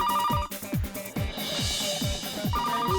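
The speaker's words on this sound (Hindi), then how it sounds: "पूरी की पूरी घंटी बज गई और आपने फोन ही नहीं उठाया" A telephone rings with a repeated electronic ringtone that stays unanswered, set against rhythmic background music in a comedy TV scene.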